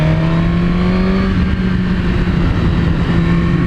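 A Suzuki GSX-R1000 superbike with a Yoshimura exhaust roars loudly and steadily while riding, its engine note holding high and close with a slight dip in pitch, no talk.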